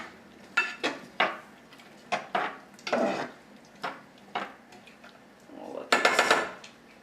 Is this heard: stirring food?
yes